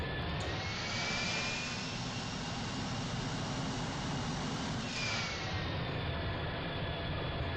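Jet engines of an airliner in the FlightGear flight simulator roar steadily in reverse thrust while it backs away from the gate, a constant loud whine and rumble with a shift in pitch partway through.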